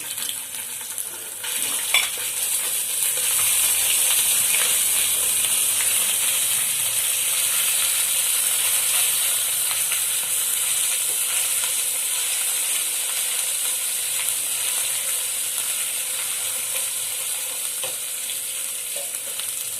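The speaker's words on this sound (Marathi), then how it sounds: "हे अद्रक लसूणची पेस्ट आहे ते टाकू आपण" Ginger garlic paste sizzling in a hot pan with chopped green chillies for matar kachori, a loud, continuous bright frying hiss with crackling spatters and occasional stirring, steady throughout.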